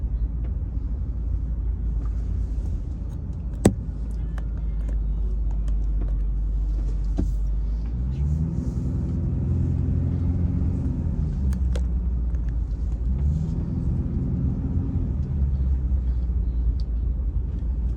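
A truck engine rumbles steadily throughout, a deep continuous drone with a couple of brief rises in pitch, with no talking.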